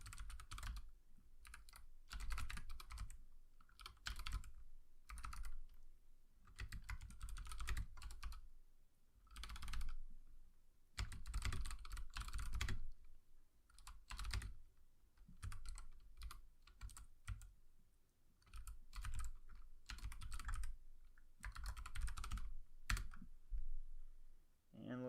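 Steady bursts of typing on a computer keyboard while entering exploit code, rapid close clicks in runs separated by short pauses, with a little talk in the background.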